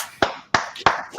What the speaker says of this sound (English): Can we have an applause for Tim?